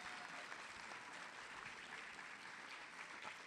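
An audience at a 2023 Employee of the Year ceremony applauds the administrator nominees, steady dense clapping throughout that sounds faint and distant.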